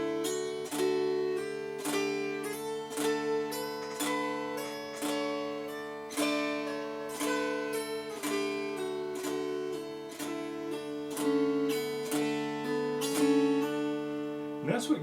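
An Appalachian dulcimer plays an old-time scale, fretted with a noter that slides between notes over a droning strum. Steady rhythmic strokes run throughout with a whistly, gliding melody on top and no talking.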